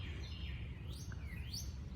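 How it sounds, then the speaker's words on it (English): Birds sing in a garden in the morning, several short rising and falling chirps and whistled phrases sounding fairly faint over a soft outdoor background. "and listening to the birds sing."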